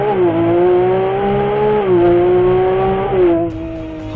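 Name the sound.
Ferrari 296 GTB accelerating, engine and exhaust sound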